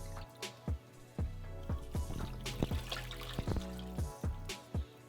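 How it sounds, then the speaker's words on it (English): Beef stock is poured into a pot for birria, heard as a close, quiet series of wet glugs and squishy drips at an uneven rhythm, with no voices. "2 cups of beef stock here"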